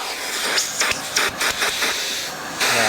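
A Milwaukee M18 cordless vacuum (0885-20) runs on its high setting, a loud close airy whoosh whose suction surges and dips in uneven pulses, with no talk over it.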